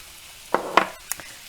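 Sweet smoked paprika being stirred into frying pork goulash in a pan, giving a couple of short scraping, sizzling stirs close by, with quieter clicks after.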